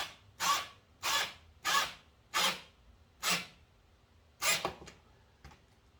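Power drill driving screws into a barn wood bench, giving six short whirring bursts in a steady rhythm about half a second apart, close and fairly quiet, followed by a faint click.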